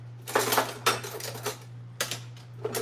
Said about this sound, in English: let's get the pot where we're going to be making the gravy at